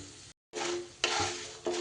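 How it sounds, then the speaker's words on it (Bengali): Lentils and nuts fry together in a pan over a low flame, giving a steady close sizzle broken by stirring scrapes, with one brief silent gap before the hiss resumes more loudly. "ডালগুলো বাদাম সব একসাথে ভাজা হচ্ছে"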